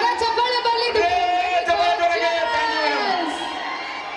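An audience at a stage show cheers and shouts, a dense crowd roar with overlapping whoops and voices that holds strong, then eases slightly toward the end.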